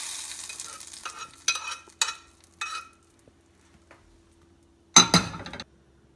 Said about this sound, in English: put this on top and you hear the sizzle